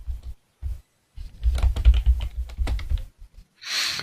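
A computer keyboard clatters under quick bursts of typing, close and fairly loud, with short pauses between runs of keystrokes and no talk.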